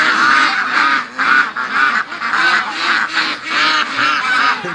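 A flock of farm ducks raised for charity honks and quacks loudly in the morning, repeated rhythmic bursts of overlapping calls, close and dominant throughout.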